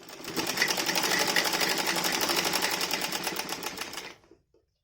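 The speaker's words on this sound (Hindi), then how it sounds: "पहले हम आसन सिल लेंगे पूरा।" A sewing machine runs in one continuous fast, rhythmic stitching burst along the seat of a dhoti salwar, close and loud, then stops abruptly into near silence.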